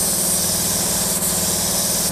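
A cheap spray gun sprays gelcoat onto a boat at about 50 PSI with a narrowed fan, giving a loud continuous hissing blast that fills the whole stretch without pause, close to the listener and with no talking.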